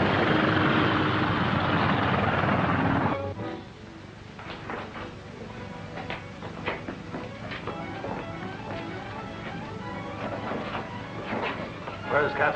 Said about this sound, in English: Captain Carson's plane coming in for a landing, sir.